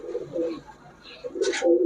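Pakistani highflyer Giribaz pigeons at a pigeon shop give soft, throaty coos close by, a few rolling calls with a brief brighter flutter near the end, no voices over them.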